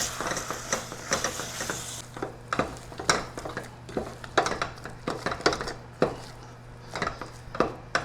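Miso nut brittle mixture with mixed nuts stirred in a pan, scraping and clinking strokes of a utensil against the pan in an uneven rhythm over a faint sizzle, close and without talk.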